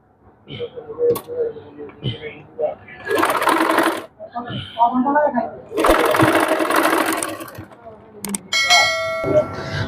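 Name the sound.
sewing machine stitching lace onto blouse sleeve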